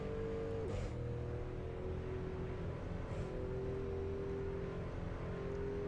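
Car engine in the video game Assetto Corsa on modeled city streets, a steady low drone with faint gear-shift pitch changes, constant and moderately quiet.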